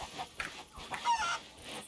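Chickens in the Sea of Thieves video game, a few soft, close clucks and squawks in short bursts over a quiet background.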